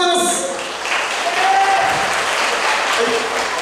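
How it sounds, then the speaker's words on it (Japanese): Concert audience at a live drum and folk performance applauding and cheering loudly and steadily, a dense wash of clapping with a few voices shouting over it at the start. "声援ありがとうございます。"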